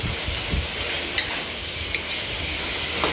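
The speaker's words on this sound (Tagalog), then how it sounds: "Nilagyan na natin ang ating sili." Chili hitting a pan of sizzling chicken curry, a steady loud frying hiss with a few soft stirring scrapes and light clinks, no voices.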